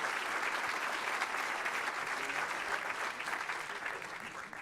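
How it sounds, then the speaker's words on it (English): A large audience at a Detroit mayoral debate claps for the candidates in a steady, full round of applause that holds evenly and tapers slightly at the end. "let's give our candidates who will appear tonight a round of applause"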